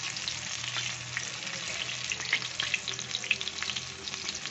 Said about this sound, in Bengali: ঘুরিয়ে ফিরিয়ে একটু ভেজে নিতে হয় ভালো করে, মুচমুচে হয়।